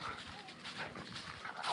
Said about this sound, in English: they see another doggy.